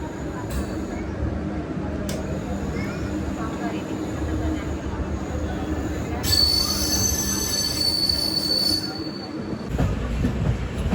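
An LHB-coach Tirupati Express curving on the track gives a loud, steady rolling rumble. A shrill, sustained wheel squeal rises midway, holds for a few seconds, then fades back into the rumble.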